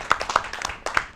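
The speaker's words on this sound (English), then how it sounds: "Give a round of applause." A few people clap sharply and unevenly in a brief, close burst of hand claps, loud and crisp with a short gap before the last claps.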